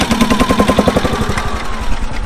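A Ransomes MG crawler tractor's small engine revs up, with rapid, rhythmic chuffing pulses close by, the beat smoothing out as the revs climb.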